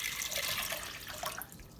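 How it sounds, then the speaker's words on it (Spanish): Water pours into a cooking pot in a short, soft, steady splashing stream, faint and close. "voy a agregar el agua en este sartén o en esta olla"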